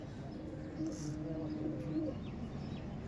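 Dhanyabala breed pigeons (Panjabi Malbayi type) cooing softly in low, repeated throaty notes, steady and fairly close against a background hum, with faint chirps above.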